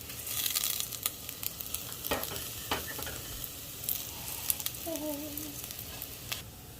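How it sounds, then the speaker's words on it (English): Rinsed basmati rice sautés in a pan over low-medium heat: a soft, steady sizzle with occasional spoon scrapes and stirring clicks, quiet and close. "So I am sauteing my rice."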